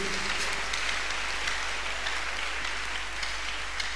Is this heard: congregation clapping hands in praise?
yes